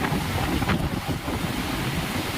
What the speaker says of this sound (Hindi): आप देखिए, ये पानी का रेला जा रहा है।